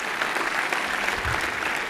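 A church congregation gives strong applause to God during a sermon, a brief burst of loud, dense clapping filling the room.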